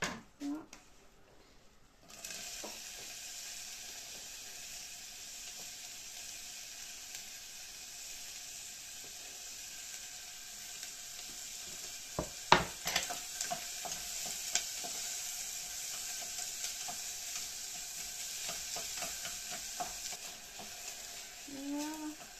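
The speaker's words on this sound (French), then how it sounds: "je vais ajouter mon oignon émincé" Sliced onion dropped into a hot pan, a soft hiss rising after a quiet start, then scattered clicks and scrapes of stirring toward the end, fairly faint.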